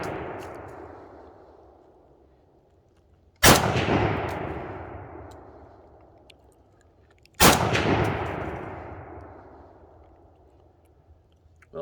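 Two loud, sharp gunshots from a Romanian PSL designated marksman rifle, each a sudden crack followed by a long ringing decay as the round strikes a steel plate, spaced about four seconds apart with no talking.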